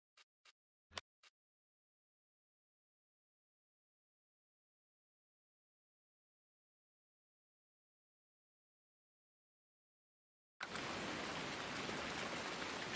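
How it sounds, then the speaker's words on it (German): Steady rain pours in the Farming Simulator 19 game world on a North Frisian marsh farm, a dense, even hiss that starts abruptly after a long silence and continues at full strength to the end, preceded by a few brief faint clicks. "weil das macht mir narrisch, wenn es so regnet."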